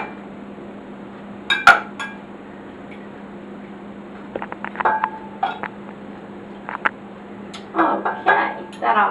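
Ears of sweet and spicy buttered corn on the cob are set into a dish with a few scattered clinks and knocks, faint and intermittent against a steady low hum.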